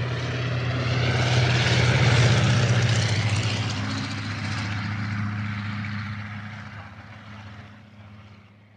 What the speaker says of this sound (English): This plane is a triplane.